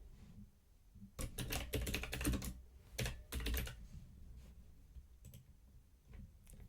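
A folder name is typed on a computer keyboard in quick bursts of close, crisp key clicks, with short pauses between them and a few scattered taps near the end.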